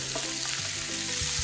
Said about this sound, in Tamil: மஞ்சத்தூள் கலந்த இறாலை இதிலே ஆட் பண்ணிக்கலாம்